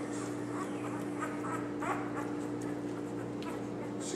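Young puppies bred as protection, search-and-rescue and working dogs bark and whimper in short scattered yips, close by, under a steady hum and murmuring voices.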